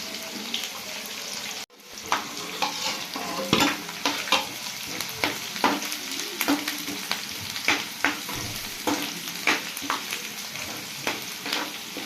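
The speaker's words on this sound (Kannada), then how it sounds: "ಈರುಳ್ಳಿನ ಎಣ್ಣೆಗೆ ಸ್ವಲ್ಪ ಫ್ರೈ ಆದಮೇಲೆ ಬೆಳ್ಳುಳ್ಳಿ ಹೆಸರುಗಳನ್ನ ಹಾಕ್ಕೊಳ್ಬೇಕು ಹಾಕ್ಕೊಂಡು ಅದನ್ನು ಸಹ ಸ್ವಲ್ಪ ಫ್ರೈ ಮಾಡ್ಕೊಳ್ಬೇಕು" Onion, green chili and garlic fry in hot oil in a pan, a steady sizzle broken by repeated sharp scrapes and clacks of stirring, fairly close and alone without talk.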